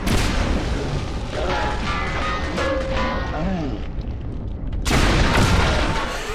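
A grenade explosion in the video game Singularity, heard as a dense, loud boom and crash with a renewed burst near the end, thickly layered with game sound effects and background noise.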